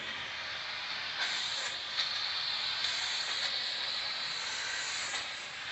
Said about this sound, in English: Trying to catch the steam.